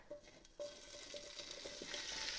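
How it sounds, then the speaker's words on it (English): Olive oil sizzles and crackles steadily in a pan while making beef stew, a soft hissing that grows a little brighter toward the end, with faint clicks of a utensil. "You can probably hear it sizzling a little bit."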